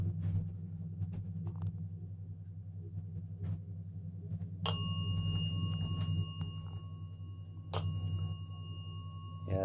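A small bell rings twice during a haunted doll session, each bright metallic ding ringing out several seconds apart over a constant low rumbling hum.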